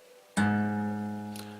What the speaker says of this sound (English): That's the sound of the 5th string.